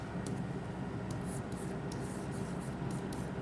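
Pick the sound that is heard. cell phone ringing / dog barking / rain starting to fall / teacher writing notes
teacher writing notes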